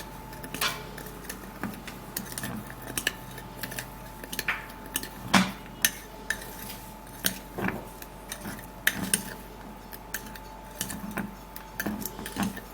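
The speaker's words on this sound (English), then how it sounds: "I would have to mix and stir it all up together." A foot treatment mixture being stirred in a bowl, with a utensil scraping and clinking against the sides in irregular close taps and light knocks, fairly quiet with no talking.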